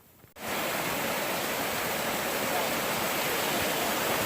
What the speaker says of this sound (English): Beautiful waterfall here.